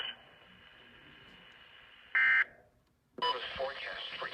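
A NOAA weather radio broadcast in eastern Massachusetts carries a synthesized voice, then a short loud burst of harsh alert tones, a moment of near silence, and a loud, dense data-burst-like tone sequence.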